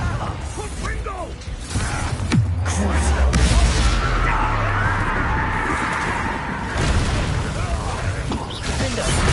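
Fire-blast spells explode repeatedly during a Hogwarts Legacy battle, producing loud booming blasts and rumbling crashes over mechanical clatter, with voices calling out amid the fighting.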